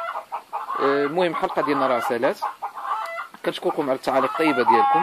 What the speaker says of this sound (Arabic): نعتذر لكم على هذا الصوت، هذا راه عندي شي دجاج كيرتقي